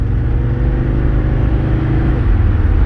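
A Mercedes 300SD turbo diesel car pulls away in first gear with a loud, close, continuous low rumble and drone, and no voices.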